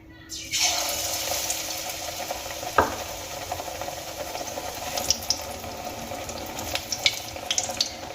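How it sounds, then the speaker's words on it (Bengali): A batter-coated spinach leaf drops into hot oil for crispy Bengali-style palong pakora, setting off a steady crackling sizzle from about half a second onward, close and moderately loud, with one sharper splash-like burst midway and small pops toward the end. "যে পালং শাকের পাতাটার মধ্যে ব্যাটার খুব ভালো করে লাগিয়ে নিয়েছিলাম সেই পাতাটা এবার আমি তেলের মধ্যে ছেড়ে দিচ্ছি"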